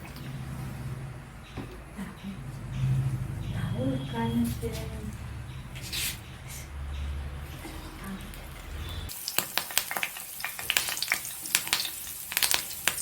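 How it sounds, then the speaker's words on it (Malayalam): A hot pan of coconut oil for fish fry sizzles and crackles with a low rumble, then sharp popping spatters rise near the end. A voice speaks over it for most of the clip. "ചട്ടി ചൂടായിട്ടുണ്ട് ഇതിലേക്ക് നമ്മൾ വെളിച്ചെണ്ണ ഒഴിക്കുകയാണ്"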